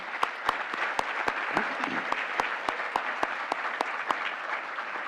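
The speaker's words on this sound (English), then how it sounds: "Let's hear a round of applause for all the primary school teachers honored here this evening." Sparse, steady clapping from a small group at an awards ceremony honoring primary school teachers, individual claps sharp and evenly spaced over a soft murmur.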